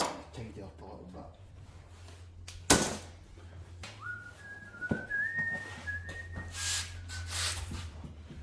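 A person whistles a wavering tune softly nearby in a workshop, the melody sliding up and down over quiet background noise with a sharp knock partway through.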